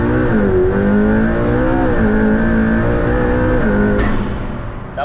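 A McLaren P1 hypercar at full throttle gives a loud, sustained engine roar whose pitch climbs steadily through the gears for about five seconds, easing off briefly near the end, with no talking.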